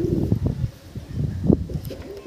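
Andhra kalsira pigeons coo in a low, repeated throaty pattern, close and fairly loud, with a soft rustle and faint chirps behind.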